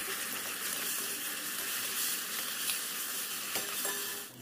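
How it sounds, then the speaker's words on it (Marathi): Tomato paste fries in hot oil with browned onion for a potato and pea curry, making a continuous close sizzle with occasional light stirring scrapes and no voices. "मग यात आपण केलेले टोमॅटोचे वाटण घालून 4-5 मिनटं तेही परतून घेऊया."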